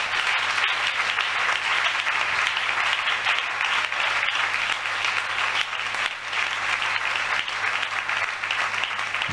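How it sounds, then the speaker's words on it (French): A church congregation applauding loudly and steadily, dense sustained clapping that fills the space with no break, cheering mixed faintly into the roar. "Acclamons très fort le Seigneur Jésus-Christ."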